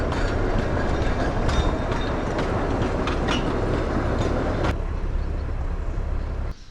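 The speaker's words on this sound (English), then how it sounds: "Finally, I get to see a cane train." A sugar cane train rolls past near Lake Tinaroo, a loud continuous rumble with rhythmic clickety-clack of wheels on rail joints, then dropping away abruptly as it clears.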